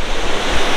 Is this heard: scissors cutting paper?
no